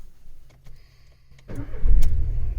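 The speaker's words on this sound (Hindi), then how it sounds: "स्टार्ट कर गाड़ी।" A car engine cranks briefly, then catches and roars to life, settling into a loud rumbling idle.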